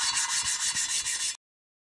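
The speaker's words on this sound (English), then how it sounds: "turning it a quarter turn, and back down again, just so it gets an even grind all the way around the valve seat" Valve lapping on a Honda K20 engine: a rhythmic gritty rubbing of the valve against its seat, about eight quick back-and-forth strokes, close and alone, then silence.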